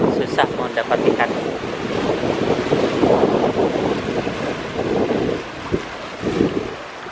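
Strong ocean waves and gusting wind at a fishing spot, a loud continuous roar with buffeting wind on the microphone and surging wash throughout.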